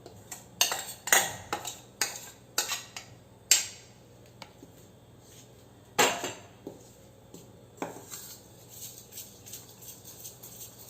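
A spoon clinks and scrapes against a bowl while mixing banana pancake batter, a sequence of distinct sharp taps at an irregular rhythm, close and fairly quiet, with no talking.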